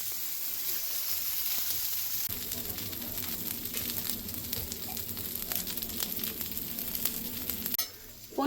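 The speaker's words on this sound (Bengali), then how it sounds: "বাটারটা যেহেতু ডিপে ছিল তো অনেক হার্ড হয়ে গেছে, সেজন্য আমরা একটু হালকা গলাতে দিচ্ছি।" Butter melts and sizzles on a hot tawa alongside paneer tikka, a steady broadband frying hiss that intensifies after a couple of seconds, with faint utensil clinks and no voices.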